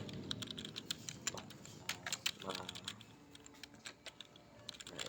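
Computer keyboard typing in quick, uneven bursts of clicks at moderate volume, with some low background murmur beneath the keystrokes.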